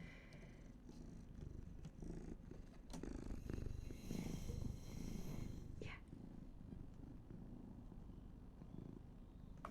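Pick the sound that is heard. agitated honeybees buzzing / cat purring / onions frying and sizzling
cat purring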